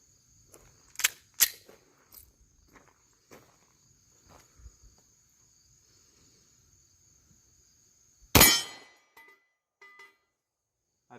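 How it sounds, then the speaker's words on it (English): Pistol shots from an FN FNS-40 long slide handgun at a range: two sharp reports close together near the start, then a single loud shot later, with quiet shuffling and clinks of spent brass between. "These are my first shots."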